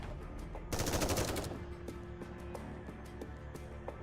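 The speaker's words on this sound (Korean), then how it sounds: "총성이 울리고 도반의 병력들이 쓰러졌다" Rapid gunfire from the video game Nikke, a dense burst of automatic shots followed by scattered single cracks, loud and close with no talk over it.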